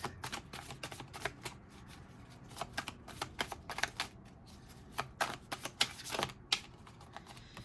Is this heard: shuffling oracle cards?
yes